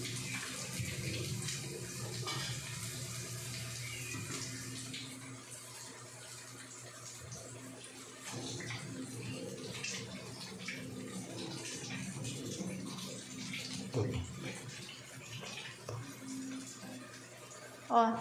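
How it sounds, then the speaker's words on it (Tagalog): Water from a tap runs steadily into a kitchen sink while hands are washed, close and continuous, with splashes and gentle flow changes under occasional talk. "Maghugas ka muna ng kamay mo."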